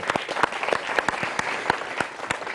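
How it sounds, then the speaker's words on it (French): A studio audience on a television news programme applauds guest Georges Dia with a brisk run of distinct, close claps from a modest crowd, steady and uninterrupted for a couple of seconds. "on peut déjà l'applaudir"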